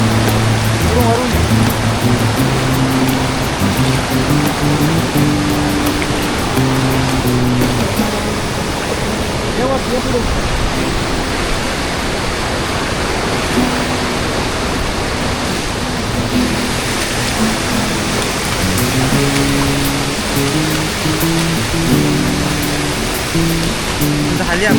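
Rushing stream water at a hidden waterfall trek crossing after rain, a loud steady wash filling the whole scene, with voices of several people talking and calling over it at times.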